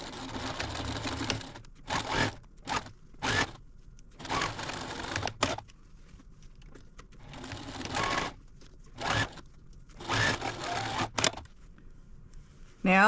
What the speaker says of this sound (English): Now I'm going to stitch a 1/4 inch seam across each side.